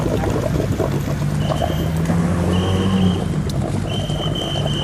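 Water pours and trickles steadily over a freshly prepared snakehead fish being washed, including its mouth, at a fish shop, with faint background noises around the continuous close splashing.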